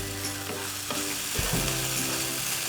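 Sabudana khichdi, tapioca pearls cooking in a pan for a fasting dish, sizzles and fries steadily with soft stirring scrapes, close and continuous with no voices.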